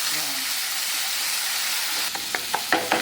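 Onion masala sautéing in oil in a pan for masala idli, a steady hiss of frying that continues throughout, joined near the end by a few sharp taps of a spoon against the pan.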